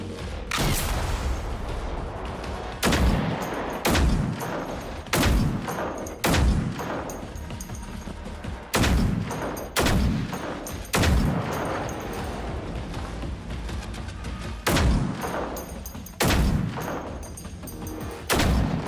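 Heavy .50 caliber gun fired in bursts in the game Generation Zero, loud booming shots repeating every second or two over a steady mechanical background, close and forceful.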